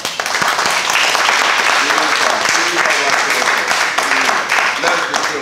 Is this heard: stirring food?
no